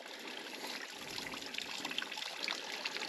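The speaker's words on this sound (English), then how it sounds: "And look at how much water comes off the rock." Water trickles off rock into a small brook along a wooded Appalachian Trail section, a faint, continuous babbling with light splashy detail and no talk.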